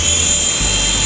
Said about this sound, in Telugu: నేను ప్రెస్ చేయగానే హెలికాప్టర్ అనేది స్టార్ట్ అయ్యింది